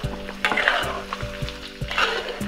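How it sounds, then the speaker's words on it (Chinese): Scallion, garlic, ginger slices, dried chili, star anise, cinnamon and Sichuan peppercorns stir-fry in a wok with pork ribs, a loud close sizzle broken by regular rhythmic scrapes and clanks of the spatula. "姜片，还有干辣椒、八角、桂皮、花椒，煸炒出香味儿。"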